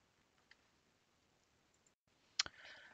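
A computer mouse clicks once, sharp and close, after a faint tick earlier, against an otherwise quiet background.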